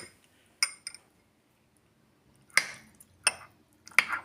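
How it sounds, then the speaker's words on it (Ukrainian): A few sharp metallic clinks of two spoons stirring in a glass or cup, spaced irregularly with quiet gaps between, close and fairly clear. "зараз я двома ложками розмішаю, розмішаю гарно-гарно"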